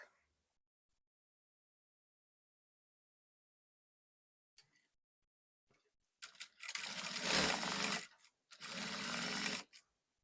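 A sewing machine stitches the side seam of a kaftan dress in two loud, steady runs separated by a brief pause, following a few faint clicks and near silence.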